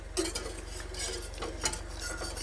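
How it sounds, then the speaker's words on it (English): A slice of butter is whisked through a duck à l'orange sauce in a pan, giving close, steady scraping and light metallic clinks of the whisk against the pan, with no voices. "I'm just going to put in sort of a slice of butter like that, which I'm then going to whisk through the sauce"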